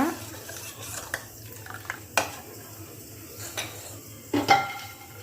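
Phool makhana kheer with condensed milk being stirred in a pot, a spoon scraping and knocking the metal sides in scattered sharp clinks over a low background hum.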